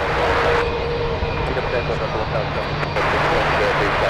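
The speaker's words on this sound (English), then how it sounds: "We have an A220 Delta Airlines lined up on runway 1 right now." Delta Airlines Airbus A220 jet holding on an airport runway, a steady broadband engine roar that stays loud and fairly close throughout, with a low hum underneath and a person talking over it.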